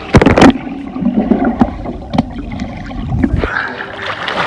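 Weight dropped into a swimming pool during a diving drill lands with a loud splash right at the start, followed by gurgling and sloshing water, with a few smaller splashes and knocks afterwards.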